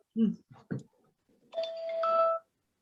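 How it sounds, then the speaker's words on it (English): Electronic chime rings out during a startup pitch showcase, a bright two-tone ding-dong with a sustained ringing tail, following a few brief spoken words. "There's the chimes."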